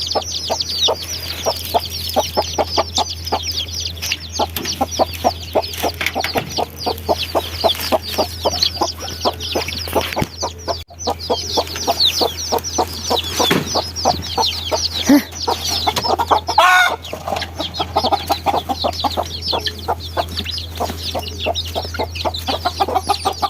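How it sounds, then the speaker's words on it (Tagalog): Chickens cluck steadily and densely, close by on a cold morning farm, as they are fed ground corn, a continuous rapid chatter of many birds with no talking. "puntahan na natin yung mga manok"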